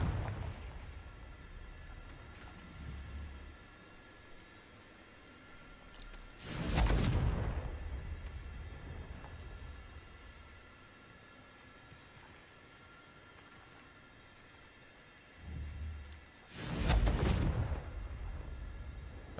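In the video game Hogwarts Legacy, two Confringo spell blasts go off about ten seconds apart. Each is a loud, booming burst with a whooshing tail over a low ambient rumble.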